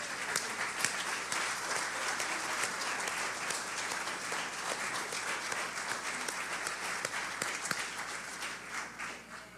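A church congregation claps together in sustained applause, a steady, fairly soft wash of many hands that continues without letup from start to finish.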